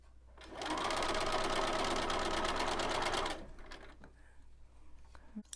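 Sewing machine back stitching at the corner of a fall leaves table runner, a loud continuous whir for nearly three seconds, then stopping into quieter handling noises.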